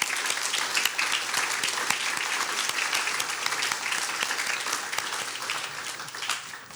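Audience applause after talks at a science alumni event on weather and climate, a steady, dense wash of many hands clapping at close range, holding level for the whole stretch and thinning slightly near the end.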